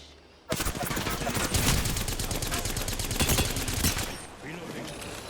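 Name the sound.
enemies shooting guns in video game Apex Legends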